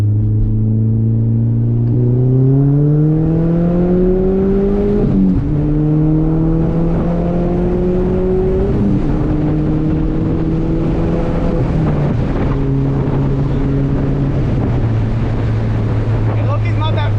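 A Mk4 VW GTI engine revving repeatedly, a loud steady drone that climbs and drops through several gear shifts, close up with wind noise over it.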